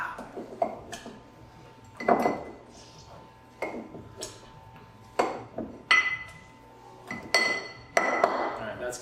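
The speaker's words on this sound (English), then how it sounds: "we're gonna give those a good squish with our muddler here" Orange pieces muddled in the bottom of a glass for a witbier and mezcal cocktail, giving a series of short glassy knocks and clinks at an uneven rhythm, close and moderately loud, with no talk over them.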